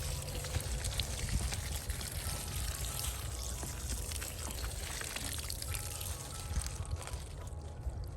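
Rainwater is poured steadily onto a freshly planted thornless blackberry, a continuous soft splashing and trickling that runs unbroken at low, even volume, close by and without voices.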